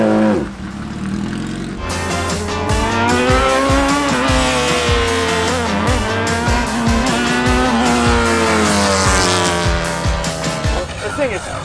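A garage-built F1-style race car accelerates hard, its loud engine rising in pitch through repeated gear changes and staying close and dominant throughout, with voices faintly underneath.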